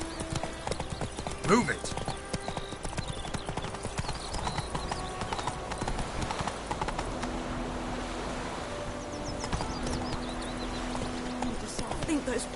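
Horse hooves clip-clop steadily through a PS4 game as the mount is ridden, with a brief whinny early on, game sounds, and a voice speaking over the hoofbeats.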